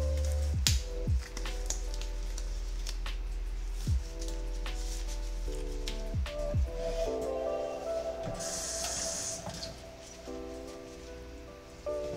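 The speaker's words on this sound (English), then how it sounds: "I'm gonna mix it with a glove so I don't have to wash my hands" Shrimp and orzo being mixed by hand in a glove, giving soft wet squishing and squelching over a steady background hum, with a few sharper clicks scattered throughout.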